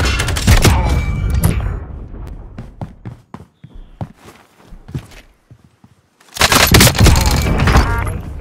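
Sharp gunshot cracks from Call of Duty: Warzone, a dense burst of fire at the start, scattered single shots in the middle, then another heavy volley near the end.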